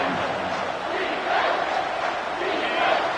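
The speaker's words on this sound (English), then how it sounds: "the crowd really making some noise now, trying to help out this defense" Stadium crowd roar from the college football video game NCAA 25, a steady, dense wash of cheering and yelling near the goal line that holds at an even level throughout.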